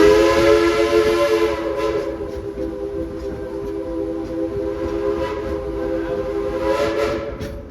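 Train running while its horn sounds in a long, sustained, harmonic blast over steady rail rumble, moderately loud and slowly swelling near the end, with no talking.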